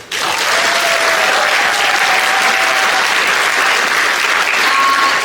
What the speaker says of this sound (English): Can we please give a huge round of applause firstly to our actors